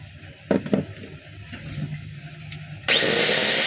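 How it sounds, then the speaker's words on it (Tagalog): A DeWalt DWE8300S 4-inch angle grinder under test, running rough and slow: faint scraping and rubbing at first, then at the end the motor spins up into a loud, steady, broadband whine. "Ang model nito mga kabay, DWE-8300S. So ayan mga kabay, testing natin."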